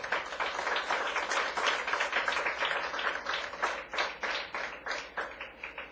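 Sustained applause from a church congregation, dense and steady clapping throughout that gradually thins toward the end.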